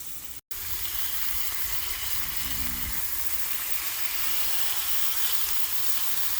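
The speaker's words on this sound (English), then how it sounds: "fire up your Blackstone grill and cook the burgers" Burgers sizzle on a Blackstone grill with a steady, broad hiss of frying that carries on throughout, broken only by a brief dropout near the start.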